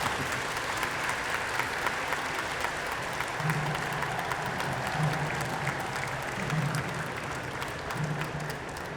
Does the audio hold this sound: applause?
yes